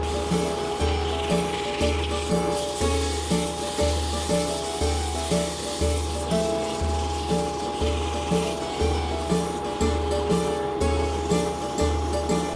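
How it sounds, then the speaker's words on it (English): A wooden beer mug spinning on a lathe and dry sanded, giving a rhythmic rubbing rasp that repeats about once a second over the constant steady whine and hum of a running dust collector. "I'm just going to go ahead and dry sand this because I need to epoxy the handle on. So I'm going to turn dust collector on"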